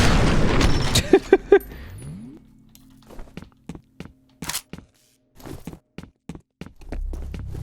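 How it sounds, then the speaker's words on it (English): A grenade goes off in the shooter game F.E.A.R., a loud boom with a burst of debris near the start, followed by quieter scattered thuds and steps in a hushed space. "I thought I heard a grenade."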